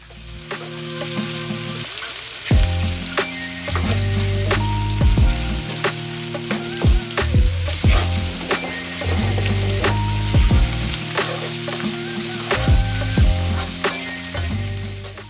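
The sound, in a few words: Nashville hot sausage browning and sizzling in a pan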